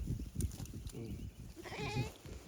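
A four-horned sheep bleats close by in a few short wavering calls, with quiet farmyard background between them.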